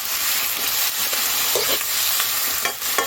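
Eggplant adobo being stirred as it fries in a pan, a steady broadband sizzle and hiss with soft scraping strokes of the spoon throughout, close and continuous.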